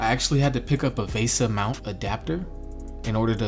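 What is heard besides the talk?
No everyday noise stands out behind the speech.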